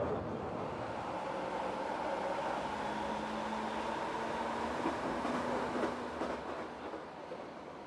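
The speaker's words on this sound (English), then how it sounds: "Another train rolling in." A metro train rolls into a station on a line extension with a steady rumble and faint rhythmic clatter that builds slightly and then eases off near the end, heard at moderate distance.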